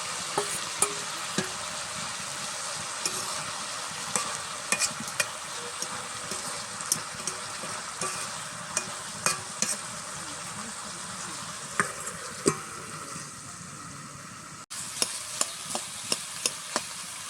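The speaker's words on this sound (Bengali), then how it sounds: "এবার দিয়ে দিচ্ছি মাছের মাথা।" A fish head goes into a simmering banana flower curry in a pan, with steady frying sizzle under repeated sharp scrapes and clinks of a spatula stirring against metal, close and continuous.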